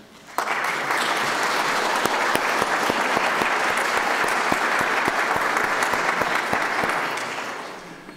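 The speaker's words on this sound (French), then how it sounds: "Je pense qu'on peut applaudir toutes les mères qui sont présentes." Church congregation at a Sunday Ascension Mass applauding, a loud, steady wash of many hands clapping that starts abruptly, holds for about seven seconds and then tapers off, with no talking over it.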